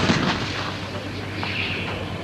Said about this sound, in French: Un peu plus loin, une position d'artillerie au milieu des vergers.